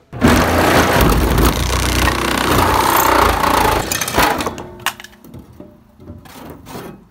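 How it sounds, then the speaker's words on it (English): Power tool cutting a hole into a SEAT Ibiza body panel, a loud harsh grinding and rattling for about four seconds, then stopping, followed by quieter scattered knocks and clatter. "now I'm just gonna make a hole in the wall."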